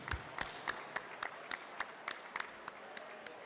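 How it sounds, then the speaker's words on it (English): Scattered claps from an audience at a school gala, sparse and uneven rather than a full ovation, about a dozen distinct hand claps over a soft room hum. "I would like everybody to clap and give yourself a round of applause."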